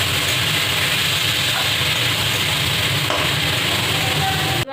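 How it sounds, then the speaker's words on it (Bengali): Dal being stirred into cooked spice mix with coriander powder for vegetarian khichuri, a steady dense sizzle with scraping underneath, continuous and fairly loud throughout. "এবার একটু নেড়ে নেব।"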